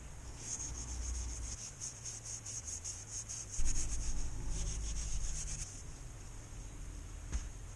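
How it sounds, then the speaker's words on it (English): A very fine Scotch-Brite pad scrubs lightly around the edges of a part on a Huskzuki 200 motorcycle, a quiet, close, hissing rub in quick repeated strokes with a brief clunk midway. "I'm actually going to use very fine Scotch-Brite and just clean around the edges, only lightly"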